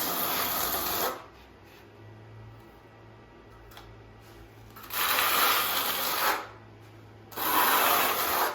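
A notched trowel drags ridges through tile adhesive on a concrete floor in three long, loud, close scraping strokes separated by quieter pauses, with no talk.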